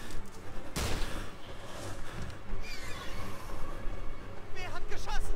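Gunfire in the King Kong video game, a sharp loud shot early on followed by scattered game sounds and animal-like cries, with talk over parts of it.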